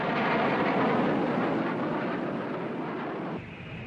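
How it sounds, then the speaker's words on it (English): A MiG-21 all-weather interceptor jet roars past in a broad, loud rushing wash of engine noise that fades slightly toward the end. "The MiG-21 all-weather interceptor was able to fly at twice the speed of sound"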